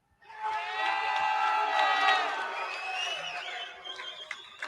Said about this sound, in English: Perth crowd loves you.